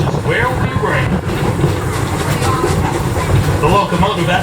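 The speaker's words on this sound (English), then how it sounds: "The locomotive at the head of our train today is our 1897 Baldwin" An 1897 Baldwin steam locomotive, Detroit and Lima Northern number 7, hauls a train past a horse paddock, giving a steady rumble with faint clickety-clack of wheels on rail under someone speaking.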